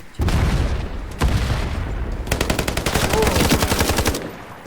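Gunfire in a free online shooter video game: loud booming shots followed by a rapid, steady burst of automatic fire, dense and continuous throughout.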